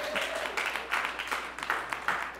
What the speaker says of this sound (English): give these song people a little round of applause